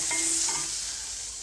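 Onions frying in oil in a pan, a steady hiss of sizzling with a faint stir or two near the start, close and even throughout.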